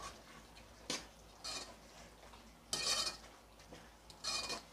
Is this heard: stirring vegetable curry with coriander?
yes